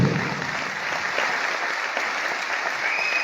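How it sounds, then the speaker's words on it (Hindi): Audience at a motivational speech event breaking into applause, dense continuous clapping from many hands, fairly loud and steady for a few seconds with no talk over it. "एक छोटा ताली होनी चाहिए।"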